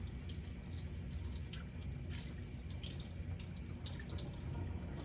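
Dentures being rinsed under a running tap, a steady, even rush of water that splashes continuously for several seconds with no pauses.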